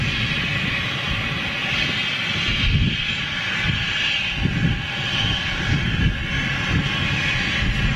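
A large jet airliner passes directly overhead near London City airport, a loud, sustained roar and rumble that holds steady throughout.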